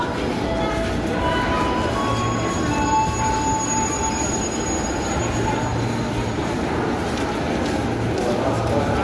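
The farmers' and traders' train at Rangkasbitung station rolls past loud and close, steady rumbling with high squealing wheels and occasional mechanical tones, while people talk in the background throughout.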